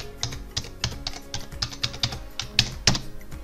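A password is typed on a computer keyboard to log in, about a dozen crisp key taps in an uneven quick rhythm, close and alone.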